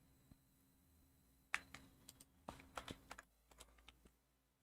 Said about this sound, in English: So I hope you guys don't mind me typing all of this.